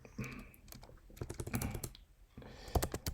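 Computer keyboard typing, rapid clattering keystrokes in quick bursts with a short pause in the middle, close and fairly quiet.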